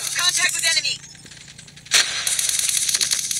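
Gunfire in the mobile shooter Call of Duty Mobile from an ICR-1 rifle, with rapid crackling shots at the start, a sharp loud burst near two seconds and continued firing noise after it, mixed with game effects.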